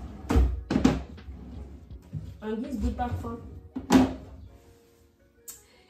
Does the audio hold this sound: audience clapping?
no